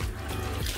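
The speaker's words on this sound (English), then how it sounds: "I'm just gonna give a quick rinse" Tap water runs over a Saladmaster cooking pot during a quick rinse, a brief, steady splashing wash, close and moderately loud.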